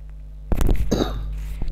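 A teacher's cough during a Hindi idioms lesson: a short burst of coughs, close and fairly loud, starting about halfway in with a brief second cough near the end, no speech around it.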